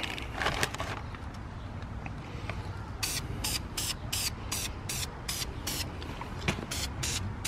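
Aerosol spray paint hisses in a rapid series of short, evenly spaced bursts while a third coat goes onto car brake calipers, over a steady outdoor background rumble.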